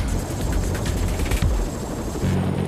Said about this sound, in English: As the chopper moves into position